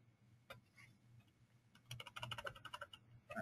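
Someone types on a computer keyboard during CAD training for a new employee. A few scattered keystrokes come first, then a faint burst of rapid, close clicking with no talk.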